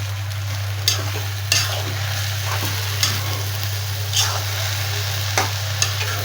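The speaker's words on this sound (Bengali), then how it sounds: "তো শাক হয়ে গিয়েছে প্রায়, এই সেদ্ধ হইতেছে ভালোই।" Leafy greens (shak) simmer in a pan while a utensil stirs them, with soft bubbling and sizzle under a steady low hum, broken by scraping strokes roughly once a second. No one speaks.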